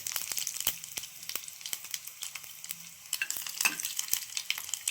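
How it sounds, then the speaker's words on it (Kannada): Mustard seeds and crushed garlic fry in hot oil, a steady crackling sizzle with sharp seed pops and light stirring, heard up close with no voices. "ಸಾಸಿವೆ ಹಾಕ್ಕೊಳ್ಳೋಣ. ಬೆಳ್ಳುಳ್ಳಿ ಹಾಕ್ಕೊಳ್ಳೋಣ."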